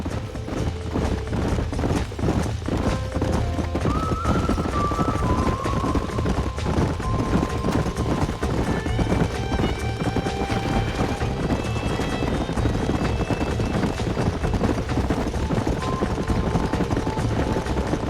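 Horses gallop in the Western video game Red Dead Redemption, a steady drumming of hooves running under a dense, continuous bed of game sound with a few tonal accents, loud and unbroken throughout.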